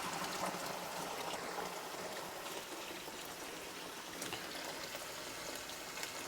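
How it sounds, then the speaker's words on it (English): Water runs steadily into an O-Cedar EasyWring spin mop bucket from a tap, a continuous rushing splash at a constant level with no voices over it. "let's go ahead and fill it up with some water"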